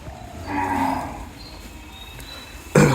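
A cow on a livestock farm gives one long, close, loud moo that rises and slowly fades, followed by quiet barn ambience and a sudden short knock at the end.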